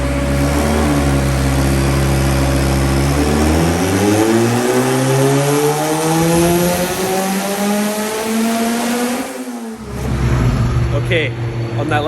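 Turbocharged Honda Integra engine on methanol injection roars through a loud, sustained dyno pull, its pitch climbing steadily before cutting off abruptly near the end, then settling into a lower drone.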